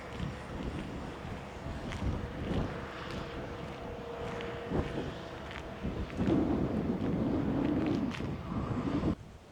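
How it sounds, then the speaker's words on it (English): Strong gusty wind buffets the microphone during a DJI Avata 2 drone flight among rocks and statues, a dense rumbling roar that swells louder toward the end. "Okay, that was way too windy,"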